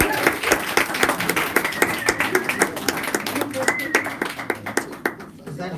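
A church congregation at Our Lady Queen of Apostles, Heston, claps in a rhythmic burst of sharp, fairly close handclaps over several seconds, while people keep talking underneath.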